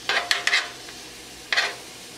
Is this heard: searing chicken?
yes